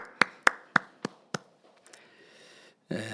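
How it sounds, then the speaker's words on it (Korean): A few sharp claps from a church congregation during a Korean Friday all-night worship service, five distinct strikes spaced about a quarter second apart, then fading into quiet room tone and a brief burst of noise. "우리 아버지께 영광 박수 한번 돌리겠습니다"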